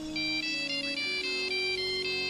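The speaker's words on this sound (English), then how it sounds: "The bloody phone!" A phone rings in the dinosaur park management game Jurassic Park: Operation Genesis, a bright electronic ringtone repeating in quick even pulses that continue with no talk over it.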